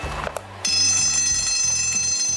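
An alarm goes off inside the Pinoy Big Brother house: a loud, steady electronic ringing with a bright, bell-like tone that kicks in after a quieter start and holds without letup, with no one speaking.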